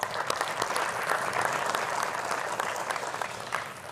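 A large audience at a formal Senate session honoring public defenders claps steadily and evenly throughout, a broad sustained ovation heard at moderate distance with no speech on top.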